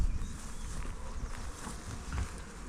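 Bees buzz around a hive after a Taranov split, a faint, busy hum with individual insects droning past close by over a quiet outdoor background.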